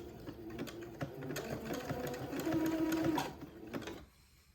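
A sewing machine zigzags entredeux lace onto the edge of a buttonhole band for a gown, a continuous, even, rhythmic whir close by that runs steadily for about four seconds and then stops.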